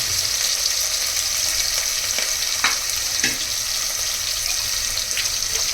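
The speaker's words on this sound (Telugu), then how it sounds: "ఆయిల్ కూడా వేడెక్కిందో చెక్ చెక్ చెక్ చెక్ మని" Green chillies dropped into hot oil crackle and sizzle, a steady bright frying hiss with several sharp pops and spatters, close and fairly loud, without speech.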